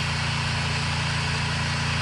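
Steady engine idle from a vehicle in a video game, a loud continuous low rumble with an even throb and broadband noise, unchanging throughout with no talking.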